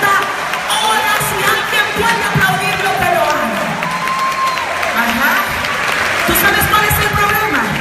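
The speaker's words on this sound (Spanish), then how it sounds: "Puede aplaudirlo, pero ajá." Church congregation applauding during a Spanish-language sermon, dense sustained clapping mixed with cheers and crowd voices, loud and continuous.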